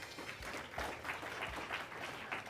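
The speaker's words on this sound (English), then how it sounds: "a round of applause for our sponsors." Audience at a Connected Africa summit applauds sponsors with steady clapping, fairly quiet and distant in a large hall.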